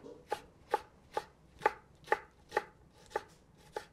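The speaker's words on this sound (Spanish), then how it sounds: "Vamos a ir picando también los chiles serranos," A knife chops serrano chiles into rounds on a cutting board with nine crisp, evenly spaced taps at a steady rhythm, close and fairly quiet, with no talking.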